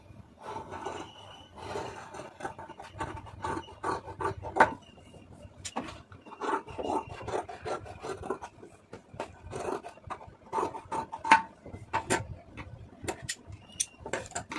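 Scissors cut through stacked blouse fabric in a tailoring setup, producing repeated crisp snips and rasping slides, irregular but steady, close and moderately quiet with brief pauses between strokes.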